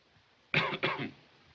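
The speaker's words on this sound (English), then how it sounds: "Why do you cough?" Two quick, close coughs in rapid succession, sharp and dry, in an otherwise quiet room.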